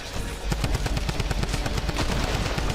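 Rapid booming shots from a double barrel shotgun in Fortnite pound out in a steady, close burst, loud and unbroken with no talking over them.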